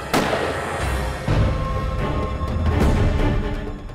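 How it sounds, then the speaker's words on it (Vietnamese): A celebratory cannon salute fires in a series of loud, deep booms, about three blasts spaced over a few seconds, each followed by a rumbling tail over a dense background. "Đây là tiếng pháo chúc mừng."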